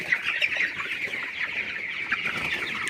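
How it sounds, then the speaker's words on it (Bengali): A dense chorus of chickens on a poultry farm clucks steadily and continuously, many birds close by and fairly loud, with no voices over them. "এখন মুরগি অনেক বেশি দৌড়াচ্ছে"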